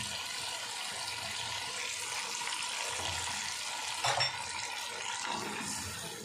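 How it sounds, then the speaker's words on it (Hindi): Mutton trotters dropped into a pan of hot masala made with yogurt, a steady close sizzle and frying hiss with a few brief stirring clatters. "मसाले की बनाई अच्छे तरीके से हमारी हो चुकी है, तो ये पाए डाल देंगे"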